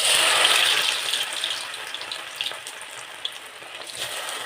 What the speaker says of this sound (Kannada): ಚೆನ್ನಾಗಿ ಎಣ್ಣೆಯಲ್ಲಿ ಡೀಪ್ ಫ್ರೈ ಆಗಬೇಕು